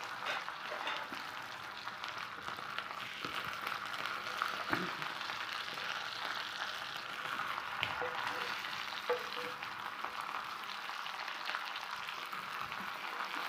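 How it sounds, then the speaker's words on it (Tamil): Fish frying in oil on a tava at moderate heat, a steady close sizzle with faint crackles and the occasional stir, no talk. "மிதமான சூடு வச்சு நல்லா பொறுமையாக பொரித்து எடுத்துக்கலாம்."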